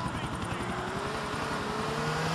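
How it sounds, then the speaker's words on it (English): A civilian helicopter in Grand Theft Auto IV flies with a steady, loud rotor chop and engine drone, a rising whine audible beneath the continuous thrum throughout. "This might be a police chopper. I don't know. Not police. The chopper is civilian"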